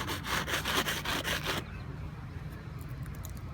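A spatula scrapes along an inflatable boat hull in six or seven quick rhythmic back-and-forth strokes, loud and close, then the scraping stops and only faint background noise remains.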